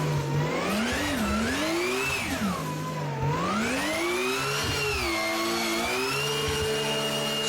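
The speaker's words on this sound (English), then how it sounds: "Dude, listen to the transmission." Racing video game car screaming through its gears with a loud, insane transmission whine that rises and falls in pitch as it accelerates and shifts, steady and up close with no talking.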